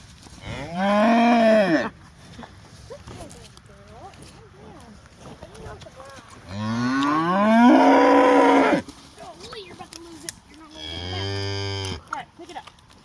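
Dexter cattle moo loudly and close, three long drawn-out calls spaced apart on a farm where a new calf has just been born, with quiet gaps between.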